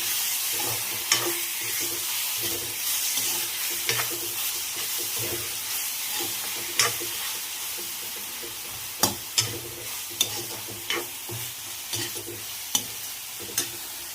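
Eggplant sautés with onion and tomato in a pan, giving a steady soft sizzle with sharp spatula clicks and scrapes, more frequent in the second half.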